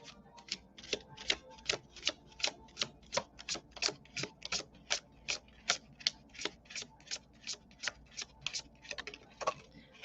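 Tarot cards being riffle-shuffled again and again, a fast run of crisp papery bursts in steady rhythm across the whole stretch, close up and moderately loud, with no talking.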